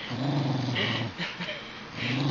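A dog growls low and continuously from close by, a rumbling snarl broken by a brief pause before it resumes, with no one speaking.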